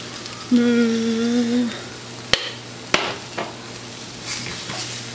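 Garlic and red pepper flakes cooking in a pan as a steady soft sizzle, broken by a couple of sharp utensil clacks, with a brief humming tone near the start.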